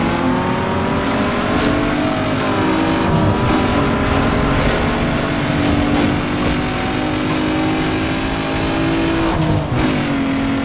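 Car engine in Need For Speed Underground 2 revs loud and steady for about ten seconds, a sustained racing drone with shifting pitch and no talk over it.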